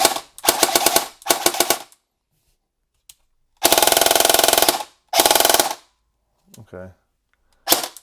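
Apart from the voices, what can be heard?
KWA MOD 2 airsoft AEG firing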